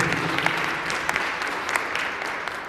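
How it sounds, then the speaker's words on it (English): Audience applause at a crime indaba gathering in the Northern Cape, a steady wash of clapping from a sizable crowd held at an even level throughout, with no voices over it. "Another round of applause, ladies and gentlemen."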